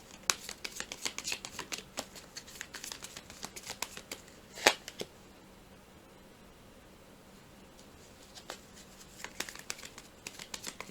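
A deck of tarot cards being shuffled in quiet bursts of soft riffling and flicking close by, with a sharper snap midway, a long pause, then more shuffling toward the end.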